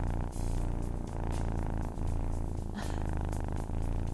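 A human voice imitating a cat's purr, producing a steady, low rumbling drone with a regular pulsing rhythm that continues for several seconds, close and unbroken.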